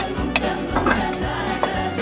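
A large old spoon stirs a salad of grapes, pineapple and garlic in a bowl, giving a series of close, soft scrapes and light clinks at an uneven rhythm, with no talking.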